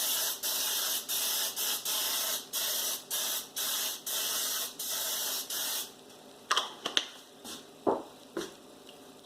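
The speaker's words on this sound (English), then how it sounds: "I'm going to spray some some baking spray on my pan here before" Baking spray from a can sprayed onto a pan, a series of short loud hissing bursts close up, followed by a few light clinks and handling noises.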